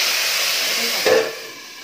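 Water poured into a hot pan of moa fish chorchori, a Bengali fish curry, giving a steady broad hiss of steam that swells briefly into a louder sizzling burst near the end, then settles back into a softer hiss.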